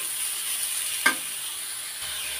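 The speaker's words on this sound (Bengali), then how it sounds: "তো চিনিটা দিয়ে নারকেল কুড়ানোটা ভালো মতো ভাজি করতে হবে" Grated coconut fries with sugar in a pan, giving a steady close hiss of sizzling with one brief scrape partway through.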